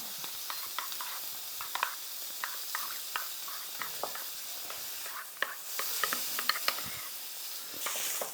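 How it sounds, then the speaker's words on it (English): Onions fry in a pan for a steak sandwich, with a steady close sizzle and a series of scraping stirs and soft clicks as they are tossed around. "So I have here the onions. I'm just going to mix this up."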